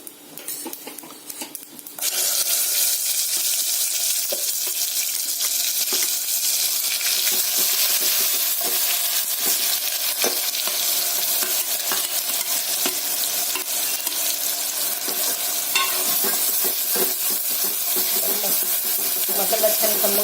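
Green chilli saar masala sizzling and frying in hot oil in a pan, a steady continuous crackle with occasional stirring scrapes, close and fairly loud throughout after a quieter opening.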